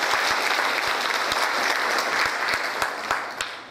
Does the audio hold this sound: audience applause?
yes